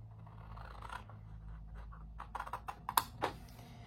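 Paper being cut for an envelope box on a scoring board: a handful of quiet, close snips and scrapes clustered near the end, with no talking.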